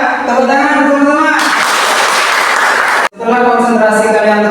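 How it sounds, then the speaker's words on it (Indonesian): Classroom students clap together in a loud, dense burst of about two seconds, with voices chanting in unison just before and after it. "Tepuk tangan bersama-sama."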